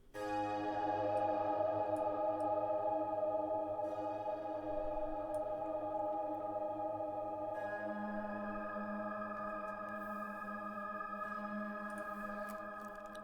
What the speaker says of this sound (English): let's put the reverb back on it